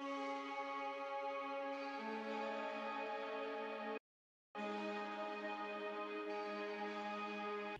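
Ambient synth layers for a future trap track sustain as a dense, bright harmonic pad with chord changes, cutting out for a half-second gap before swelling back at full level, with no voices.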